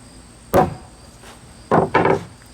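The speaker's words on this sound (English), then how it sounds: "give it a good tap with a hammer" Three sharp hammer taps driving a screw into a deck board, one alone then a quick pair, loud and close against a quiet background.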